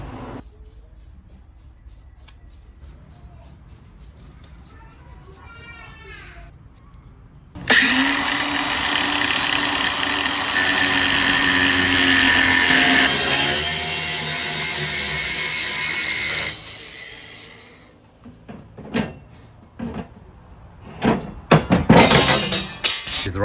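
A power tool cuts steel stock for a homemade spare wheel carrier, starting with a loud sustained high-pitched grinding screech for about nine seconds, followed by clanks and handling knocks of the metal.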